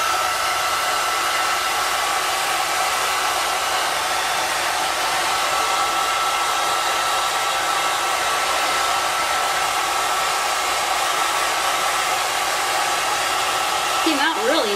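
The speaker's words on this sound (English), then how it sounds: "Now I'm going to dry it a little bit." Hair dryer blowing steadily on freshly brushed hair after platinum silver coloring, a loud, close, unbroken whoosh with a steady motor hum lasting throughout, then a brief shift in pitch as the airflow changes at the very end.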